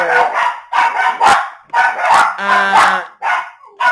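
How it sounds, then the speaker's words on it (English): Several dogs barking close and loud in rapid, overlapping bursts, an insistent run of sharp barks with brief gaps, alerted by someone outside. "the dogs just saw somebody and they're not going to give up. They just want to keep barking"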